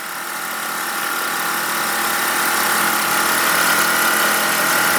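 A rebuilt ViAir constant-duty 12-volt air compressor runs steadily, a loud, close, whining electric hum with a buzzing rattle that rises slightly as it builds pressure, heard alone with no talk.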